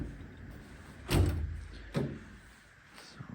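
A large drawer on a Homak HXL Carlyle Platinum 72-inch toolbox slides fully open and stops with a solid thud, followed by a second softer clunk, in a quiet room with no talking.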